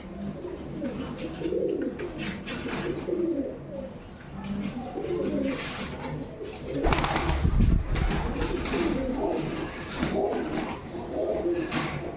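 Pigeons coo in low, throaty bursts close by, repeating over a continuous background of bird sounds, with a louder rustle midway.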